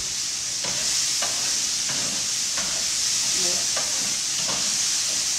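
Paella Valenciana ingredients browning in a pan give a steady, close frying sizzle and hiss, with occasional soft stirring scrapes at regular intervals.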